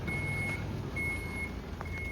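A garbage truck in a Tokyo street gives a steady reversing alarm, a high pure beep repeating about every second over loud engine rumble and traffic noise, close by.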